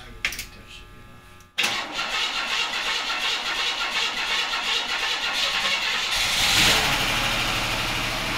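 A 24 Hours of Lemons race car cranks briefly, then catches and settles into a rough, loud idle close by, with a rev that swells near the end and a voice faint beneath it.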